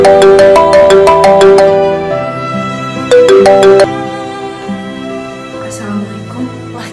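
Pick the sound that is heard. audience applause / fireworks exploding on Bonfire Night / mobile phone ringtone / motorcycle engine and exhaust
mobile phone ringtone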